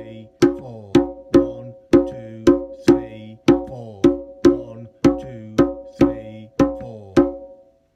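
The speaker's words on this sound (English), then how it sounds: "the conga rhythm that we've been doing, which has been this Middle Eastern ostinato pattern" A conga drum plays a Middle Eastern ostinato, about fourteen evenly spaced ringing strikes, each a sharp attack with a resonant decaying tone, close and clear with nothing else around.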